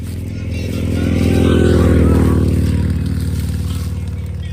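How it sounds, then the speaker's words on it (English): A motorcycle passes by on a rural homestead road, its engine droning in from a distance, swelling to a peak near the middle, then fading away with a steady throbbing note. "Motorcycle."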